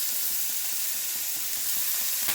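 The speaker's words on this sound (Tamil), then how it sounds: "எண்ணெய் காய்ஞ்ச உடனே நாம் அரிஞ்சு வச்ச வெங்காயம், பச்சை மிளகாய் போடுறோம்." Chopped onion and green chili sizzle in hot oil, a close, continuous crackling hiss with faint rhythmic stirring scrapes underneath.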